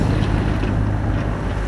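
A sailboat motoring under engine power on the sea near Hondarribia gives a steady, loud low drone with wind and water wash over it, continuous and unbroken throughout.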